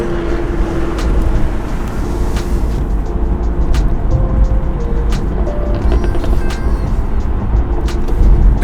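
A tuned B58-engined BMW M340i accelerates hard alongside a C63 AMG and an X4M, a loud, sustained engine roar building over road noise.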